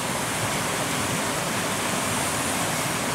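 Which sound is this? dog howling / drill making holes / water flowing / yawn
water flowing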